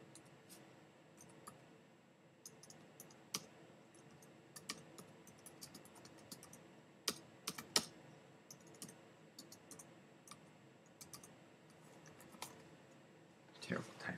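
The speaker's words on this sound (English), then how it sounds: "terrible typing" Faint keystrokes on a computer keyboard, scattered irregular clicks and short flurries of typing, quiet and close, with soft background noise.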